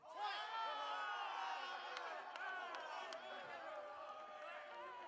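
Crowd cheering and whooping at a big ball doubles finals match, a sustained broad roar of many voices with brief sharper shouts on top, steady and fairly loud throughout.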